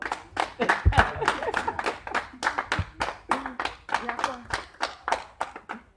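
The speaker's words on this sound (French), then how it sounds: "Sous vos applaudissements." Congregation in a parish church applauding a woman's entrance, with steady rhythmic hand clapping throughout, the claps close and distinct, and voices talking and calling out underneath.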